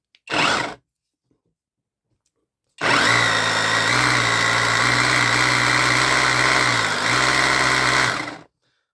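A faulty cordless rotary hammer gives a short burst, goes quiet, then runs for about five seconds with a loud, buzzy mechanical whine that wavers unevenly, heard close up.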